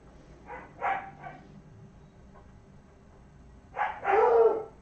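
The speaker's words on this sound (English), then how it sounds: "Noisy, noisy dogs." Dogs bark indoors in a couple of short clusters, a few yips and then a louder, sustained bark close by, with quiet room tone in between.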